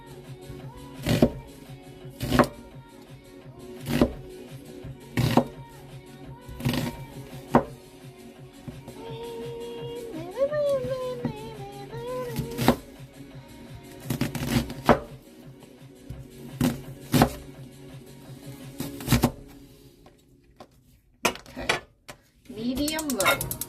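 A knife chops food on a cutting board in a home kitchen, giving sharp, evenly spaced thuds that speed into quick bursts toward the end, close and loud, over a faint background hum.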